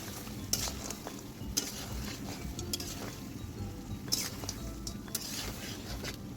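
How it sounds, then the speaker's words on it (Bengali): Duck meat and fried potatoes stirred in a pan, a soft continuous sizzle under repeated scraping strokes of a spatula, with a few sharper metallic clinks spaced through it. "এখন ভেজে রাখা আলুগুলোও মাংসের সঙ্গে ভালো মতন কষাবো"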